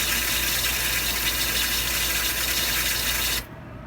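A replaced fresh water pump hums and vibrates steadily while the tank refills, a constant close drone with rushing water that cuts off abruptly near the end, leaving quiet.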